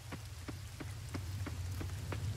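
Steady in-game rain falls in the farming game Coral Island, a constant low wash with soft droplet ticks repeating about every third of a second, heard alone without talk.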